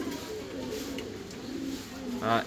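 A newly added male pigeon coos close by, one throaty coo rising near the end over a steady background murmur, with people talking around it.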